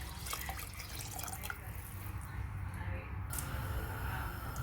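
About three and a half cups of water pour into a pot of rice mixed for tomato pulao, a continuous splashing rush that stays steady and close throughout.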